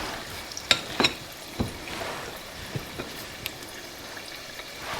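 Batter frying in hot grease in a home kitchen, a soft steady sizzle with a few sharp pops and drips as spoonfuls drop into the oil.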